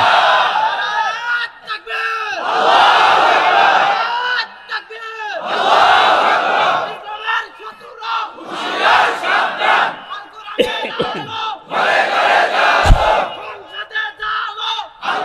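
A large crowd answers a preacher at an Islamic sermon by roaring the takbir in unison, the massed voices rising in several loud, swelling waves with short pauses and scattered shouts between them.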